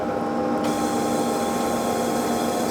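The spindle of a Haas SL-10 CNC turning center runs at 800 RPM, producing a steady, continuous machine whir with a constant tonal hum. It sounds close and unbroken, with no voices.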